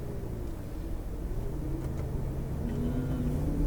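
Lamborghini Aventador pulling away under gentle throttle, its engine a steady low rumble that builds slightly as the car moves off, close and continuous with no talking.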